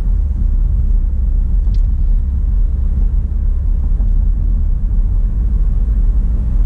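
Steady low road rumble from a car driving the M-39 freeway through Lincoln Park and Southfield, a continuous droning hum with no breaks.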